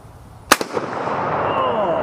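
An M1 Garand rifle fires a single .30-06 round outdoors, a sharp loud crack with a quick echo followed by a long rolling reverberation that fades slowly.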